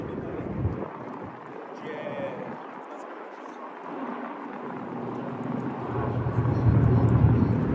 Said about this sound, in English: He has a single engine plane too.